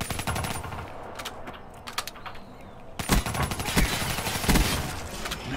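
Rapid automatic gunfire in Call of Duty: Black Ops III, sharp cracking shots in quick bursts, loud and close, with a brief lull before a heavier volley near the middle, no talk.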